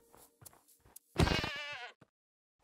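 A goat in a block-building video game lets out one clear, wavering bleat lasting under a second, preceded by a few soft clicks and quiet game sounds, with no talking.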